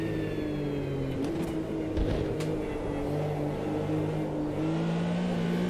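A 1973 Porsche 911 engine in the racing game AMS 2 hums at a steady, moderate volume with slight pitch shifts and a brief bump, played fairly quietly throughout.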